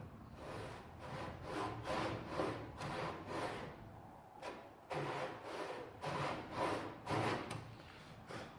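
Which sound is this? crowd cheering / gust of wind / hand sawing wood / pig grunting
hand sawing wood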